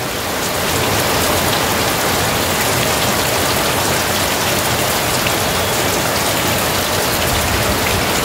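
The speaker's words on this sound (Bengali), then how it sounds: "এই বৃষ্টির আওয়াজটা শুনুন।" Heavy rain pours down at a hill homestay in Chisang, North Bengal, a dense, continuous hiss of drops drumming on surfaces, steady and close with no voices.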